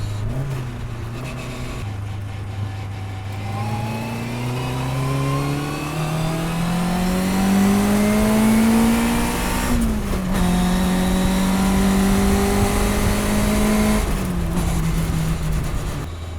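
A 1957 Lotus 7 racing car engine revs loudly and continuously, pitch climbing through gears with short drops between shifts, close and dominant with no talk.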